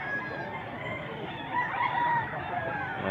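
Many chickens with roosters crowing at a rural place in Mantalungon, Cebu, drawn-out crows rising over a background of clucking and general flock noise, moderately distant.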